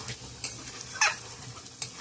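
A pan of leftover curries, including mutton tripe and meat, being reheated and stirred, with soft sizzling under a few sharp scraping strokes of a spoon against the pan.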